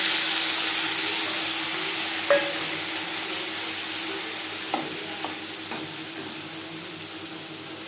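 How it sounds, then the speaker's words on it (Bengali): Bhetki fish fat melting and frying in a pan for a Bengali tel chorchori, a steady close hiss of sizzling with a few soft clicks and ticks scattered through it. "সবার প্রথমে আমি মাছের তেল মেল্ট করে নেব"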